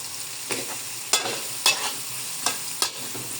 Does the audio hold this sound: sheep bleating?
no